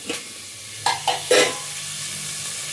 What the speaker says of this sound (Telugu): ఈ యొక్క ఆనియన్స్ మంచిగా మగ్గాలి, ఇవి మగ్గుతూ ఉంటాయి.